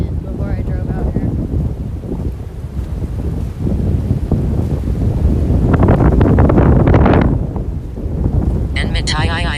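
Strong wind buffeting a microphone outdoors, a constant loud low rumble that swells and gusts through the middle, with a voice talking underneath.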